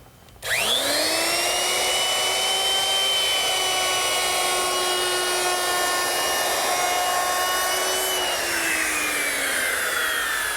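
A handheld router with a bearing-guided bit cuts a rounded bull-nose edge on wood, a loud, steady high-pitched whine that spins up at once and holds for about eight seconds before easing into a slightly lower tone.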